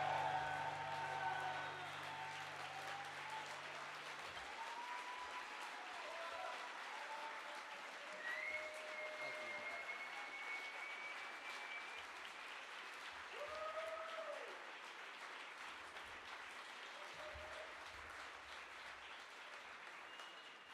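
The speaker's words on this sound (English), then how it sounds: "Another round of applause for Jordan Page." An audience at PorcFest XXII, a live outdoor festival, applauds Jordan Page with sustained, fairly distant clapping that holds level for about twenty seconds, with faint crowd murmur and whistles mixed in.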